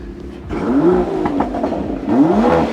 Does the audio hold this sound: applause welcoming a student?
no